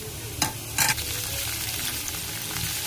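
Curry leaves and chopped onion fry in hot oil, a steady close sizzle with two sharp crackling bursts near the start as they hit the pan, then an even hiss while they are stirred.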